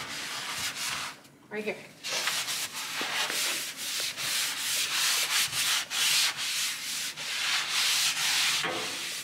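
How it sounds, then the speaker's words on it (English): Steady scrubbing and rubbing while cleaning a gas valve behind a kitchen stove, a close, continuous rasping friction with brief pauses and a short spoken remark near the start. "clean this gas valve just really lightly"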